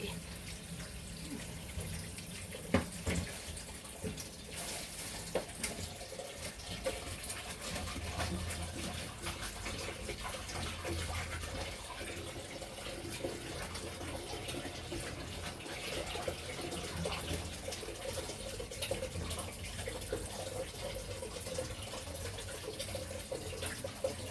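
Water runs steadily from a tap with a continuous rushing hiss, splashing into a sink throughout, with no voices.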